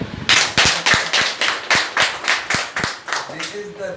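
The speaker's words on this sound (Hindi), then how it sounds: "एक बार जोरदार तालियां।" Seminar audience claps in a strong, steady rhythmic beat, about a dozen loud unified claps in a row, with a voice faintly audible near the end.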